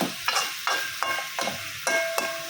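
Tomato is stir-fried with flat beans, potato and rohu fish in a pan, with a light oil sizzle broken by regular scraping strokes of a spatula, about five or six close stirs with no talk.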